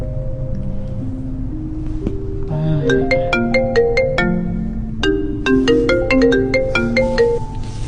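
A mobile phone plays a melodic electronic ringtone, a bright repeating tune of ascending and stepping notes ringing loudly and close for several seconds, with no talk over it.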